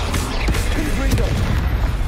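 A fire-blast Confringo spell in Hogwarts Legacy lands with a muffled boom and crackle amid busy combat noise, with speech-like game voices mixed in throughout.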